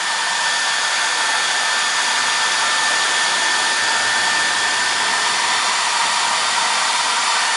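Close and loud, the constant airy roar of a handheld hair dryer warms plastic on a Camaro cold air intake install. It holds one even pitch and level from start to end, and no one speaks.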